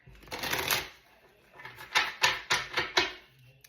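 Playing cards are riffled: one longer shuffle, a pause, then several quick rhythmic riffles, close and crisp.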